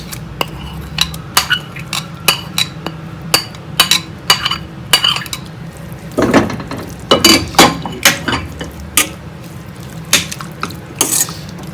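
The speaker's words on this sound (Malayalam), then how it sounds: "ഇതിലേക്ക് അരച്ചു വെച്ചിരിക്കുന്ന അരപ്പ് ചേർക്കാം" Ground coconut paste being added and stirred into cooked, translucent golden cucumber in a pan for pachadi, with a spoon scraping and clinking against the metal in irregular close taps throughout.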